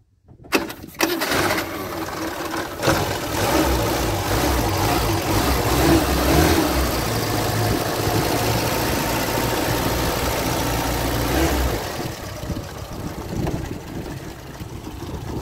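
A steady, low engine rumble from a 1977 Ford Corcel idles continuously for most of the clip, then drops off near the end, leaving a quieter background.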